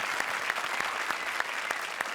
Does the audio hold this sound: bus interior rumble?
no